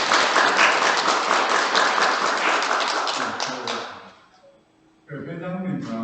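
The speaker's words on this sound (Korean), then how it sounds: "수고 많이 하시는 것은 박수로 격려를" Audience applause at a society's annual general meeting, a dense sustained round of clapping that fades out after about four seconds, followed by someone speaking.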